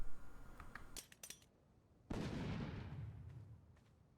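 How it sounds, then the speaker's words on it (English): An Adobe structure in the video game ARK: Scorched Earth is blown up: a few light clicks, then one heavy blast that rumbles and fades slowly. "Watch it get blown up in one shot."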